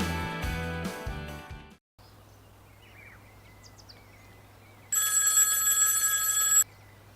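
A telephone rings out on a river in a radio ad: an old-style bell ringing loudly in bursts, a quiet gap with faint birdlike chirps over a low hum, then a second sustained electronic ring.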